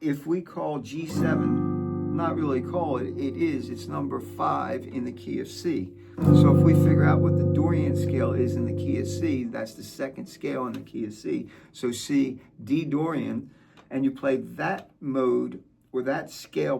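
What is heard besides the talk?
No everyday noise stands out behind the speech.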